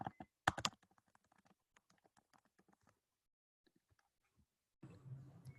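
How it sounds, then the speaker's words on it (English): Typing on a computer keyboard, a burst of loud close keystrokes followed by a run of lighter, irregular clicks that thin out into sparse taps, then a brief swell of soft background noise at the end. "where are you typing?"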